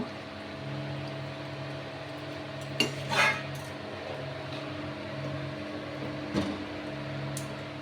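A utensil clinks and scrapes against a pot while prawn malai curry is stirred, a few brief metallic knocks and a lid-like clatter over a steady low kitchen hum.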